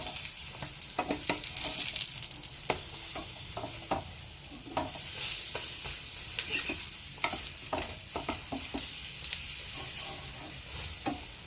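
Sweet bread snacks fry in hot oil, a constant close sizzle punctuated by light scraping and clicking as the pieces are stirred and turned.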